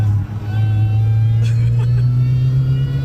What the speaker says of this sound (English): This engine is just like, it doesn't really feel like there's a dull spot. It just keeps revving and revving.